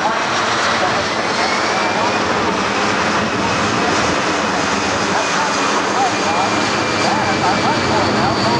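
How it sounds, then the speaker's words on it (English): A C-17 Globemaster III with four Pratt & Whitney F-117 jet engines roars loudly and continuously at an airshow, with an announcer talking over the engine noise. "The C-17 is powered by 4 Pratt & Whitney F-117 engines."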